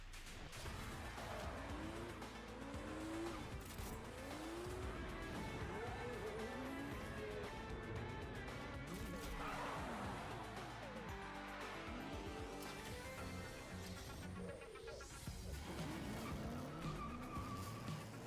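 Race cars in a Gran Turismo video game trailer skid through corners with repeated, sweeping tire squeals over a constant engine roar, one slide rolling into the next at a busy, uneven pace.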